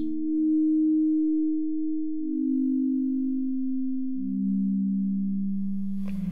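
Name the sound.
sonified meteorite sound atmosphere, sine tones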